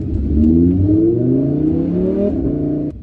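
A Lamborghini accelerates hard on a city street in New York, its engine note climbing steadily in pitch across several seconds with a loud, close, rising roar before cutting off abruptly near the end.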